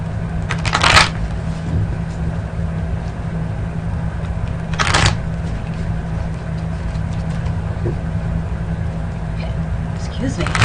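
Oracle cards are shuffled for a tarot reading, with two brief, crisp riffling bursts separated by a few seconds over a steady low background hum.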